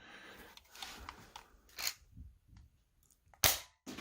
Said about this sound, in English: this actually shoots the rocket a fair distance